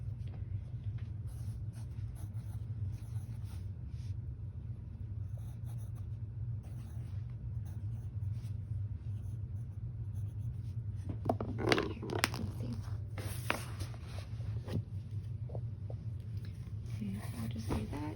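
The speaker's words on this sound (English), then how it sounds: "I know that you can write a lot neater than this, Poppy." A child writing on paper in a quiet home lesson: soft scratching strokes come faintly over a steady low room hum, gathering into a brief busier cluster of marks partway through before easing off again.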